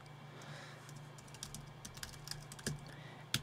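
Quiet, irregular clicks of a computer keyboard as someone types in a name and email address, keys tapping faintly in short bursts over a low room hum.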